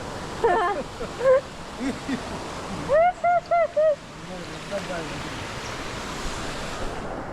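At Kumari Ella in Sri Lanka, a stream flows toward a waterfall with a steady, close rushing noise throughout, while people speak in short bursts over it.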